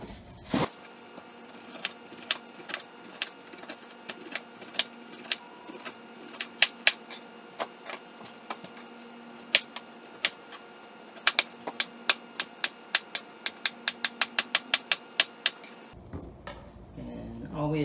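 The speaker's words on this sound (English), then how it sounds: "let's go ahead and cut this up" A knife chops up a pineapple for shrimp fried rice, giving a long run of sharp, irregular taps on a cutting board that speed into quick clusters near the end, close and fairly quiet.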